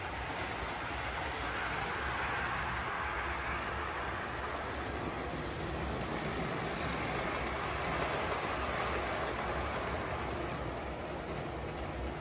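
A steady, continuous rumble and rattle of an O/On30 model train running along track and over switches, even and unbroken throughout with no talking.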